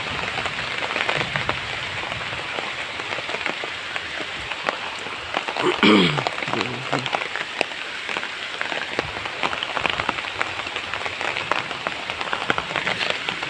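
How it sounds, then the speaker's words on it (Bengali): Heavy rain pours down steadily on a rural village setting, a dense continuous patter with a brief voice cutting in midway. "মেলা বৃষ্টি হয় কি বাড়িতে যাবো কি"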